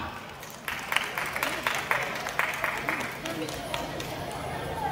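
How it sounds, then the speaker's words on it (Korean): Moderate applause from an audience at an outdoor national singing contest final, scattered claps over a murmuring crowd, carrying on steadily through the moment. "응원의 박수 보내주시면 감사하겠습니다"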